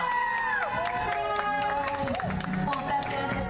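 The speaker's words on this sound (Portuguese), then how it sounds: "E aplausos para a nossa aniversariante" A crowd claps and cheers for a birthday girl at a street party in Ermelino Matarazzo, with scattered claps, shouts and excited voices. Upbeat music with sliding melodic tones plays underneath throughout.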